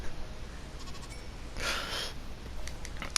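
Goats bleating in the video game Minecraft, one short bleat followed by a brief burst of louder, nasal bleating, with faint clicks around them.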